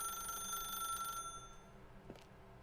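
A telephone rings in the video game The Stanley Parable: Ultra Deluxe, a single bright trilling bell burst that cuts off after about a second, followed by a faint low click and a quiet background hum.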